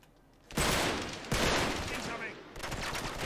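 Gunfire in Uncharted 3: Drake's Deception, heard as loud, sustained bursts of shooting that start abruptly after a quiet moment and come in dense volleys, with a brief break between them.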